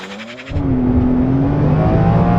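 A BMW M3 Touring and an Audi RS6 accelerate hard side by side in a drag race, the engine note jumping sharply and then holding a steady, loud rising drone.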